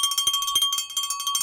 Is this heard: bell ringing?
yes